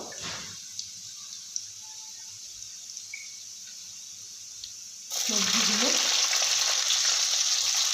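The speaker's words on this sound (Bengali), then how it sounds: "পেঁয়াজটা একটু লাল লাল করে ভেজে নেবো প্রথমে" Chopped onions hit hot oil in a pan at about five seconds and break into a loud, steady sizzle after a quieter stretch of faint kitchen noise.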